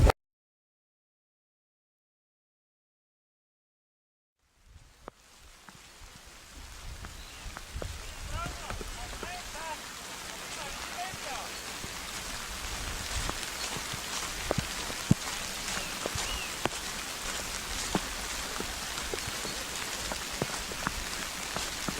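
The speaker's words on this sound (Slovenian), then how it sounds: "Uspelo, čeprav malo dežuje" Light rain falls steadily outdoors at a village church festival, a dense patter of drops on surfaces that starts after a few seconds of silence and grows slightly denser, with scattered louder drips nearby.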